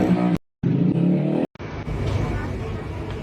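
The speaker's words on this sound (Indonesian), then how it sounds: "Ia kemudian menggeber-geberkan motornya di dalam suatu ruangan makam" A motorcycle with a loud brong exhaust revs hard inside a tomb room, giving raw, echoing engine roars broken by abrupt cuts, loud and close.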